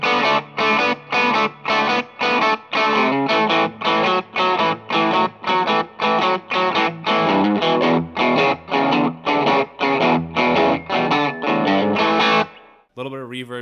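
Electric blues guitar through a light overdrive pedal with a light overdriven crunch playing a choppy, rhythmic chord pattern of short repeated strums, loud and close, ending with a brief ringing chord.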